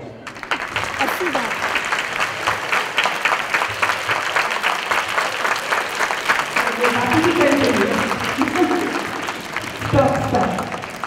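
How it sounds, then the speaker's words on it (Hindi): Schoolchildren at a CPR training camp clapping their hands in a fast, rhythmic run of repeated claps, continuing for a long stretch while an adult voice talks over the latter part. "तो 80 बार तालियां बजाओ।"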